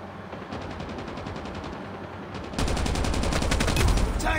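An RPD machine gun firing in Call of Duty Mobile, with sustained rapid automatic bursts that grow louder and denser partway through, one continuous rattle of closely packed shots.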